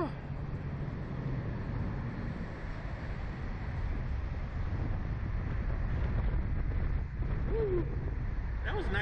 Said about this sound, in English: That was nice and windy.